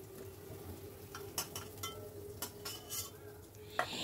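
Fried potatoes are lifted from a pan into another vessel with a utensil, giving a few light scrapes and clinks against metal over a quiet, steady kitchen background.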